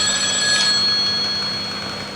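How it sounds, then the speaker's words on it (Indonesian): Telephone ringing inside the horror video game Eyes, a steady electronic ring that stays moderately loud across the short stretch and fades slightly toward the end, with no talk over it. "Kok ada telepon?"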